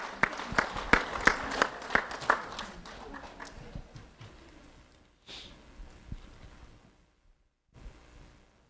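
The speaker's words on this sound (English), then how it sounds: "Let's have a round of applause for Jesse Zelter" Audience applause for a middle school student at a recognition event, beginning with a burst of loud individual claps that thin out and fade, followed by a quiet stretch and a brief faint return of clapping.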